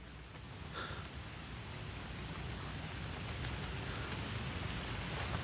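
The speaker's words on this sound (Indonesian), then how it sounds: "Wih, hujan cuy." Rain falls on Gunung Salak as a dense, steady hiss that swells slightly louder toward the end. It is fairly faint, with a few soft crackles and no talking.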